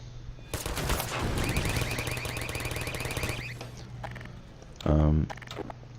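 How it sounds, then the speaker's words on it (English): Rapid automatic turret gunfire in Half-Life 2, a dense rattling burst lasting a few seconds over game ambience and a low engine hum, followed by a short heavy thud. "Take that turret down, Gordon."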